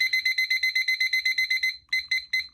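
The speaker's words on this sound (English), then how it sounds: "sorry for the beeping, folks" A heat press timer beeps rapidly, a fast train of sharp high-pitched electronic beeps in quick regular bursts, close and clear, pausing briefly before a few more beeps.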